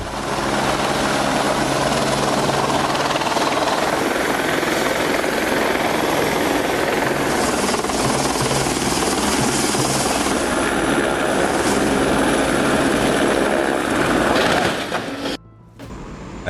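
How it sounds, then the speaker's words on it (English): Loud, steady rotor thudding and turbine whine of a helicopter flying close by a vessel stranded in Antarctic pack ice, constant for the whole stretch before cutting off abruptly near the end. "A helicopter delivering food and mail to a vessel stranded in the ice pack"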